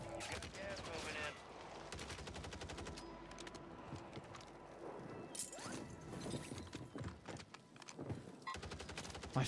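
Rapid automatic gunfire in Call of Duty Warzone on Rebel Island: fast bursts of crisp shots crackle throughout, with clattering impacts and a voice talking at moments.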